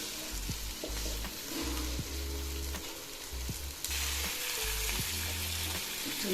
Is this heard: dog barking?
no